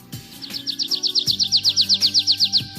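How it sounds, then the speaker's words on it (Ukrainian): A nightingale sings a fast, repeated series of bright chirping notes in a steady rhythm, close and clear, with a low hum underneath. "слухав, як чарівно співає соловейко"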